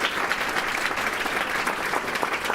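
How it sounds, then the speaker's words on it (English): Steady, dense applause from an audience at a tech industry panel event, a continuous wash of clapping hands at moderate volume for a couple of seconds with no talk over it. "can we give a big round of applause to the SF Tech for Good team for organizing this?"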